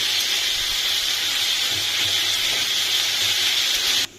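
Ginger garlic paste frying with onions in hot oil, a steady loud sizzle and hiss that continues evenly before cutting off abruptly near the end, with no talk.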